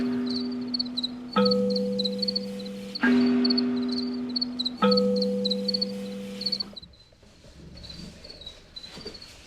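Crickets in a captive colony on a cricket farm at night trill in loud, evenly pulsed bursts, several males overlapping in interlocking rhythms close by, before the chorus thins to scattered softer chirps.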